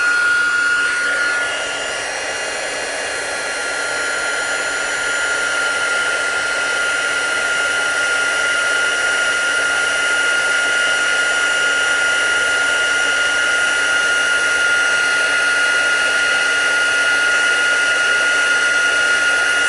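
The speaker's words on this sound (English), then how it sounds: "I'm going to grab this and my heat tool" A heat tool used for embossing powder blows air with a steady, high-pitched whine and rushing hiss, continuous and close, holding unchanged for the whole stretch.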